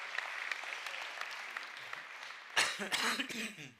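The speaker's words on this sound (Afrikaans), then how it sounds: "Kom ons gee vir 'n lekker hande klap." A church congregation gives a soft, steady round of applause that runs for a couple of seconds before a speaker's voice takes over nearby.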